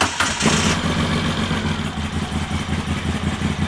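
A motorbike engine, fitted with a new battery, runs at a steady, fairly loud idle throughout, its low rhythmic putter close and uninterrupted.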